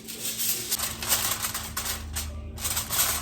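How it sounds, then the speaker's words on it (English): Aluminium foil crinkles and rustles continuously up close as it is pressed over a dish of smothered grilled pork chops. "We're gonna cover this with foil."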